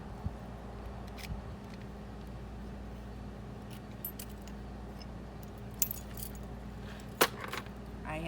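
A set of car and trailer keys jingles in brief, scattered metallic clinks over a steady low hum, with a louder jangle near the end.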